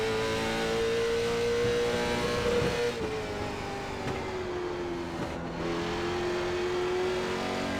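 Late model stock car engine in iRacing at Thompson, a loud continuous drone heard from the cockpit, pitch easing down and climbing again through corners with a brief lift around the middle, no talking.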